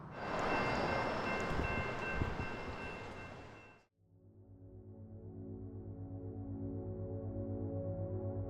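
A freight train roars past with loud, broadband rumbling that cuts off abruptly, leaving a steady, droning locomotive engine idling at a distance.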